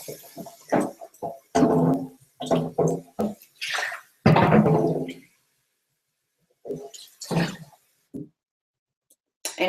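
Running water splashes in short, irregular bursts while something is rinsed, each gush lasting a second or so and separated by stretches of near silence.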